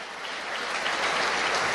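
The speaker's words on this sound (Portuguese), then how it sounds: "Então dê um aplauso a ele, ao Rei dos Reis" A church congregation breaks into applause, a brief, dense burst of clapping that swells slightly toward the end, with no voices over it.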